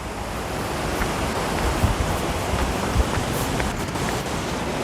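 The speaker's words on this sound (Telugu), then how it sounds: "కొండవాగు నుంచి ప్రవేశించే వాటర్ ఫాల్ అయితే చూడండి ఎంత బాగుందో" A hill-stream waterfall at Thonam near Salur, Parvathipuram Manyam, gives a constant broad roar of falling water, close and unbroken, with faint wind buffeting and no voices.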